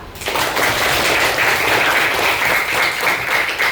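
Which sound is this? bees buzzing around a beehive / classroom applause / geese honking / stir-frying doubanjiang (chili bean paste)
classroom applause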